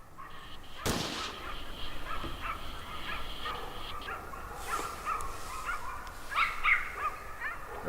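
Hunting dogs bark in the distance after being released on a driven hunt, with a sharp crack near the start and scattered calls over outdoor ambience; no one speaks.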